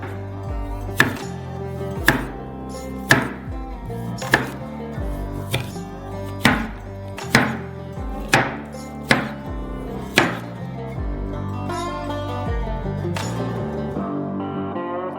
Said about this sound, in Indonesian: Potong menjadi lingkaran.